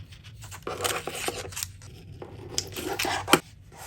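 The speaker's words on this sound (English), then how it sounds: "Cut out the square here." Scissors cut out a square from paper for a paper Christmas village house craft, giving a close series of crisp snipping and rustling strokes in quick irregular rhythm, with no talking.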